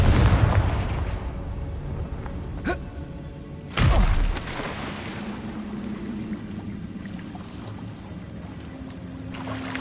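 A fire spell called Confringo bursts in a video game: one sharp crack, then a heavier explosive boom about a second later, trailing into a rumbling, watery ambience.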